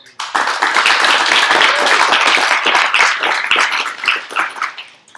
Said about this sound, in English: a warm round of welcome applause for Matt